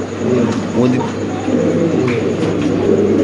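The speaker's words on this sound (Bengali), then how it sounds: "যারা কবুতর ডাক দেখতেছেন স্প্যানিশের, ইন্দোনেশিয়ান ব্ল্যাক" Spanish and Indonesian Black pigeons coo repeatedly in a loft, with low throaty calls overlapping close by under a steady background hum.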